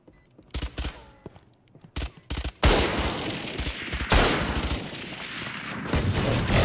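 Gunfire in a shooting video game: scattered single shots and short bursts at first, then sustained, loud automatic fire with heavy impacts, close and dense, without talking.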